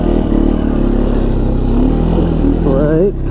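A 2016 Arctic Cat XC 450 4x4 ATV engine drones steadily in low range while driving over rough ground, loud and close, with a voice talking over it.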